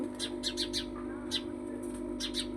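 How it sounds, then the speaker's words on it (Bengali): Several quick bird chirps in small clusters over a steady low hum, fairly faint and coming in bursts with short pauses. "পাখিগুলো ডাকছে দেখেন"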